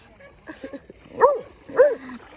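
A dog gives two short, clear barks with a whimpering yip, close by, following a few soft lead-in sounds.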